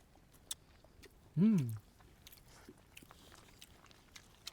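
A single crisp bite into a crunchy piece of fried chicken pickle comes up close, followed by faint quiet chewing sounds.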